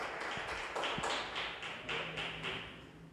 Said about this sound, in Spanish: Dele una ofrenda de palmas.